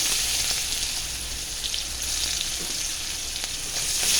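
Chopped onions fry in oil left from frying fish, with dried red chillies and whole cumin in the pan, giving a steady, close hiss of sizzling and crackle that holds evenly throughout with no talking.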